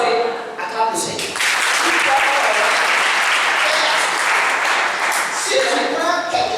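A church congregation applauding, dense sustained clapping that swells quickly and holds steady for several seconds, loud and close, with a voice speaking faintly at the start and end.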